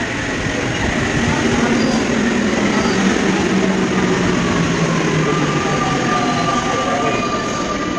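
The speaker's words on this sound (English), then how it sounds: "We're in the underground," An underground metro train in Europe runs along the tracks, a steady loud rumble with faint squealing wheel tones rising and falling throughout.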